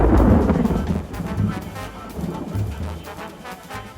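Deep rolling thunder from an approaching thunderstorm over a lake, a heavy low rumble that swells and recedes in waves, loudest at the start and fading unevenly.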